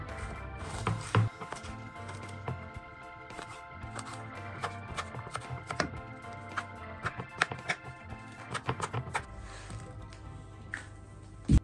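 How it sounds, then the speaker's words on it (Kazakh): A knife chops fresh cucumber on a board for a salad, with a run of quick crisp taps in uneven bursts and short pauses between, close but fairly quiet and without talk. "Балғын қиярды турап шығамыз."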